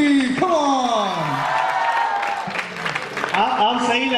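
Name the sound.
audience applause for the leading lady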